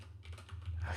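Quiet, rapid keystrokes on a computer keyboard as commands are typed, several soft clicks within a second over a low steady hum.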